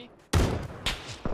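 Enemy gunfire in an online shooter match cracks out in three sharp bursts, the first heavy and sustained and two shorter ones following, moderately loud with no talk over them.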